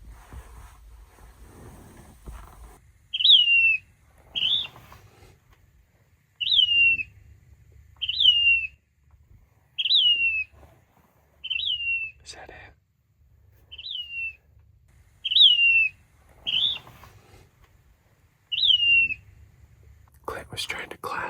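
A bird's mating call is played back in the desert: about a dozen short, bright whistled chirps, spaced every second or two, rising above soft low background rumble and faint whispering.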